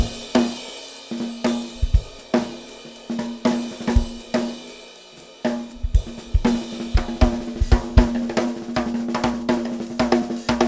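A drum kit plays a jazz groove with matched grip: steady ride cymbal, snare accents and kick hits in a close, even swing feel, with no talking.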